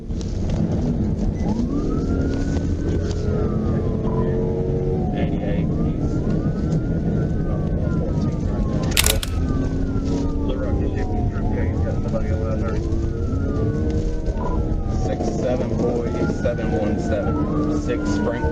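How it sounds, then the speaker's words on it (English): A police car's wailing siren rises and falls repeatedly during a high-speed pursuit, heard from inside the car over loud, steady road and engine noise, with radio chatter and talk mixed in. "activated his emergency lights and siren"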